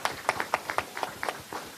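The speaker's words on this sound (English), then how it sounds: "I believe you all deserve a round of applause." Audience in a meeting hall giving a round of applause, a faint, sparse spatter of individual hand claps in an irregular rhythm, fairly distant, with a murmur of voices underneath.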